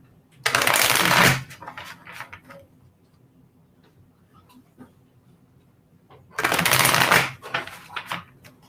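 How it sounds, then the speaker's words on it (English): Two quick bursts of tarot cards being shuffled, close and crisp, separated by a few seconds of quiet with small rustles and taps. "I'm just going to give it a quick shuffle"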